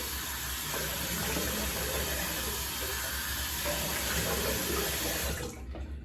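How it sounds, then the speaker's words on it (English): A bathroom tap runs steadily into a sink while someone rinses off after shaving, a continuous close splashing flow that cuts off near the end. "Let's go ahead and rinse off a little bit"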